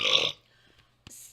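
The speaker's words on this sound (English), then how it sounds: "When you belch into that mic, you know who has to deal with it?" A loud, close belch straight into a microphone, a raspy burst lasting about a third of a second, followed by near silence and a brief voice at the end.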